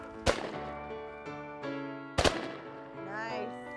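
Two sharp, loud shotgun blasts crack out roughly two seconds apart during a Georgia quail hunt, each a sudden broadband burst that fades quickly, with excited voices calling out around the shots.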